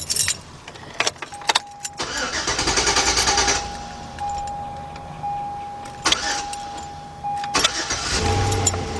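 A 2005 Chevy Suburban starts up after a few clicks and a key jingle, cranking briefly before the engine catches and settles into a loud, steady idle nearby, with a couple of sharp clunks later.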